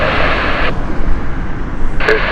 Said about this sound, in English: Next inbound is an Airbus A320 Vienna flight of British Airways.